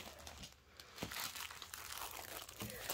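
A paper envelope from a cross-stitch kit is handled and opened up close. Quiet crinkling and crumpling go on throughout, with a few sharper rustles and tears.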